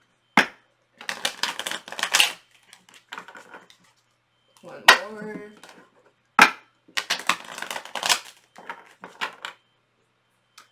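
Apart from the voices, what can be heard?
tarot cards being shuffled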